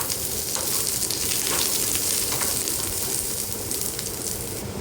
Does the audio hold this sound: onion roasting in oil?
yes